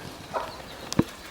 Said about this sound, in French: 4 poules qui sont en train d'élever des poussins.